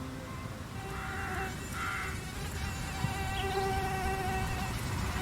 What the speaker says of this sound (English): After laying a batch of eggs, the now contaminated mosquito flies out of the station.